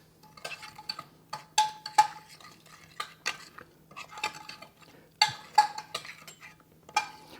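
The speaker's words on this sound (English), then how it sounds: "Mix this together very well." Dry spices for quail kebabs are stirred together in a bowl, giving faint, close clinks and light scraping of a spoon in irregular bursts over a quiet background.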